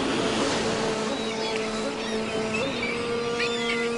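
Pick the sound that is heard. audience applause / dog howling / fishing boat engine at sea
fishing boat engine at sea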